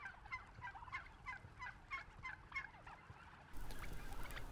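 Farm turkeys gobble in a rapid series of repeated warbling calls, moderately close, followed by a burst of broader flock noise near the end.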